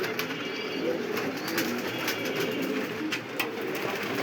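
Kaldom pigeons in a loft coo softly and continuously, a low steady murmur with a few faint chirps over a noisy background, no speech.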